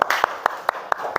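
A school class clapping hands during an Islamic education lesson, a short burst of sharp, evenly spaced claps, close and fairly loud.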